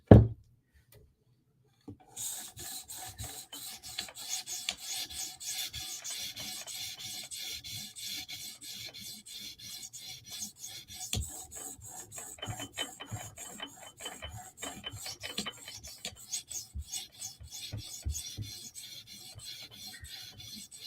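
A TSProf Kadet sharpener takes repeated passes along a 400 grit stone on a knife, a faint, steady rasping scrape in quick back-and-forth strokes that begins after a sharp opening knock and runs on alone.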